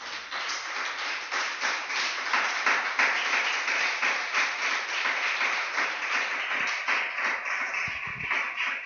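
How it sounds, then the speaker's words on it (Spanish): A church congregation claps steadily during an evening service, producing sustained, dense applause with scattered sharper claps throughout. "Dame un aplauso al Espíritu de Dios en esta noche."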